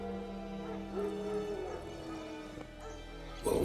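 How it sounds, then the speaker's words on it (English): Wild dogs bark and yip in The Witcher 3 video game, a few short barks and whimpers heard at moderate distance over ambient game sound. "wild dogs. Yes, more dangerous than wolves."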